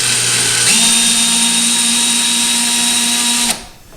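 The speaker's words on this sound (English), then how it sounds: "We'll drill them. We're going to put them all the way in." Power drill driving wall anchors for a towel bar: a loud, steady motor whine that steps up in pitch early on, runs continuously for about three seconds, then cuts off abruptly.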